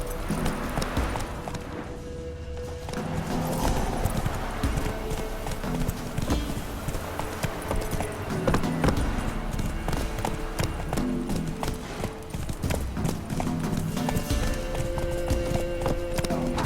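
A horse gallops in The Witcher 3 video game, a fast, continuous clip-clop of hooves close by, with faint speech and game ambience underneath.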